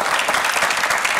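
A studio audience claps steadily and loudly for a short burst of dense, even applause with no talking over it.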